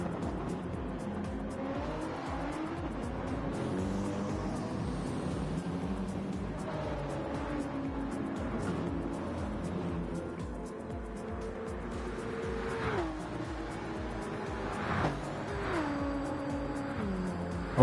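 BMW race cars roar through a racing video game, engines droning steadily with rising and falling pitch as gears shift, tires squealing now and then, loud and continuous with no talk over them.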